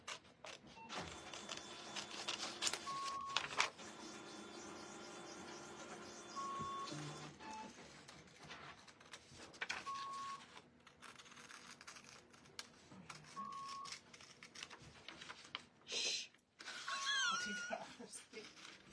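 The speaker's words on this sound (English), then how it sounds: "I don't know why it's beeping." Short electronic beeps repeat at intervals of a few seconds over a mechanical whir and rustling, with voices heard at times.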